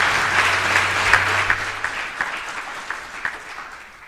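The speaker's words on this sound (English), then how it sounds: "Let us as South Africans give them a good round of applause." An audience applauds at an official state visit event, a dense burst of clapping that gradually thins and fades over a few seconds, with scattered individual claps trailing off at the end.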